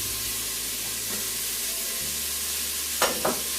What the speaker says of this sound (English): Okay, so my Instant Pot has heated up. I'm gonna add in the onions.